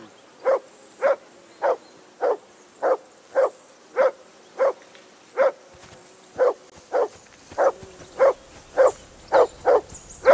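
A dog in Kingdom Come: Deliverance II barks repeatedly in a steady rhythm, about twenty loud, evenly spaced barks close by over a quiet outdoor background, with no talking.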